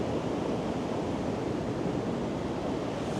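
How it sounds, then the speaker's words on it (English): River rushing through a small rocky gorge with huge rocks in Scotland, a steady, broad roar of flowing water close by with no talking. "I just love places like this little gorge with huge rocks and the sound of the river"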